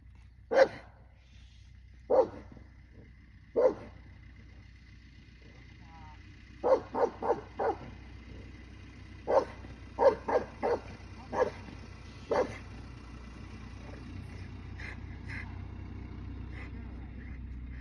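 A dog barks repeatedly nearby: loud single barks spaced a few seconds apart, then quicker clusters of yips and barks, fading toward the end.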